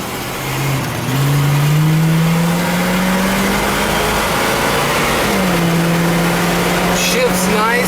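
A 1973 Oldsmobile Delta 88 Royale convertible with a 455 V8 accelerates from a stop, its engine note climbing steadily and shifting once, heard loud from inside the car over road and wind noise.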